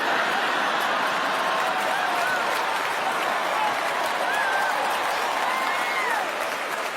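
Loud, sustained applause from a large crowd, mixed with laughter and scattered voices throughout.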